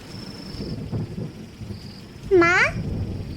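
Steady hiss of cartoon rain runs throughout the short scene, with a brief rising, meow-like cry breaking through near the end.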